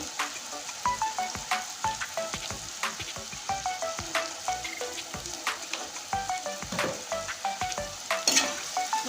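Onions sizzling in hot oil with salt while being fried for chicken and potato curry, a steady crackling fry broken by repeated scraping stirs, close up, with no talking.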